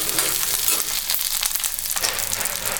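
Green chilies fry slowly in a pan for radish chutney, a continuous crackling sizzle with bright spattering pops and occasional stirring scrapes, close and moderately loud, and no one speaks.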